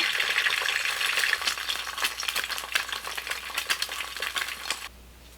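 Close, crackling sizzle of an egg frying in a pan, with scattered pops and a few light scraping taps before it fades out.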